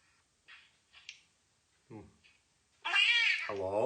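A cat gives a few soft short mews, then a loud, drawn-out meow close by, rising and falling in pitch.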